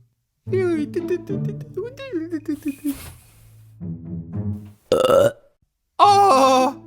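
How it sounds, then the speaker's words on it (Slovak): Cartoon voices chatter, then a character lets out a loud, brief burp between lines of dialogue. "On si grgol."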